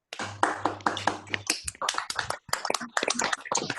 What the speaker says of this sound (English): We all give a huge round of applause. Everyone to clap for them.